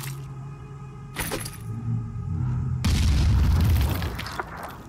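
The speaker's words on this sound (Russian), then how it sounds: "Мы же можем докинуть гранату." A grenade blast in Phoenix Point, the video game, sets off a loud, deep boom with a rumbling tail that follows a sharper pop.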